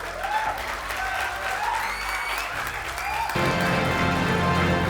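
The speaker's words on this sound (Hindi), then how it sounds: "तालियां बजवा दो।" An audience at a felicitation and success party for bankers applauds, a dense, steady burst of clapping that swells slightly and continues throughout, with background music and a faint voice underneath.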